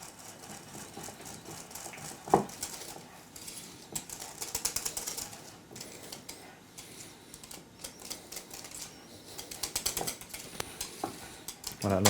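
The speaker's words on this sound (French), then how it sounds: "On va mélanger avec un fouet." A whisk beats cheesecake filling in a bowl, producing rapid scraping and tapping strokes in bursts, with sharper clinks against the bowl, close and fairly quiet with no voices.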